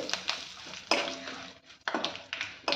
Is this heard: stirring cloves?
yes